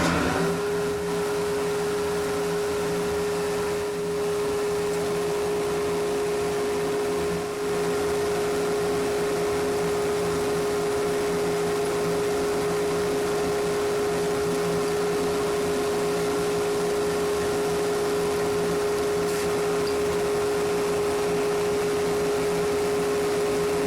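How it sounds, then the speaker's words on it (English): A sharp cutter works an extremely soft slimline pen blank on a lathe, producing a steady, continuous motor hum with an even whirring hiss that holds throughout without pause. "this sharp cutter should just go through it like butter"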